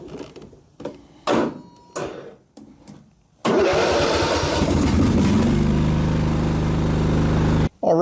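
A riding mower engine, with stabilizer-treated fuel, cranks in several short starter bursts, then catches and runs at a loud, steady idle before cutting off abruptly at the end.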